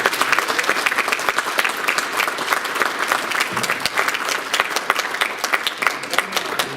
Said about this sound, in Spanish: los recibimos en primer lugar con un fuerte aplauso a nuestros tres ponentes